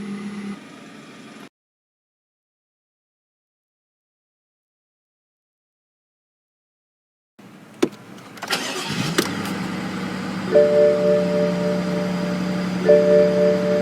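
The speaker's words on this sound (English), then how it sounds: "Beautiful muscular startup from that twin turbo V8." A BMW twin-turbo V8 starts up: after a short stretch of silence a sharp crank catches, the engine flares loudly, then settles into a steady, close, rumbling idle with another brief rev.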